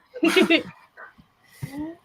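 A very large dog gives a few short, close barks and yips in quick succession, with a whimpering note after a pause, in a room with faint voices.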